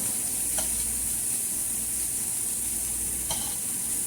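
Chopped green onions browning and cooking down in a pan hiss with a steady, even sizzle, broken by a couple of faint stirring clicks.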